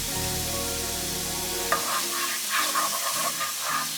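Shallot and minced garlic hit a hot pan, giving a steady close sizzle and frying hiss with stirring scrapes and a few clatters, alone with no talk.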